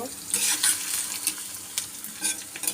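Onion and garlic frying in a pan for a Bengali home dish, a close, steady sizzle with crackling bursts and soft stirring scrapes, no voice heard.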